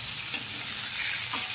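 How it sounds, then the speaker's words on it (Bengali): Onion and ginger-garlic paste fry quietly in a pan, a soft steady sizzle with a brief stir or scrape near the start and another faint one near the end. "আদা রসুন বাটাটা একটু ভাজা ভাজা হয়ে গেলে"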